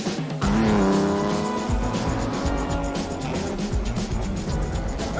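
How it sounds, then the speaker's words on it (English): Late-1950s Aston Martin DB4 GT Lightweight sports car driving hard, its engine rising in a loud sustained roar that holds strong throughout at close range. "It's an Aston Martin DB4 GT lightweight"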